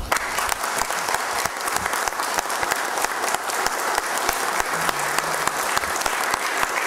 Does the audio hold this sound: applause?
yes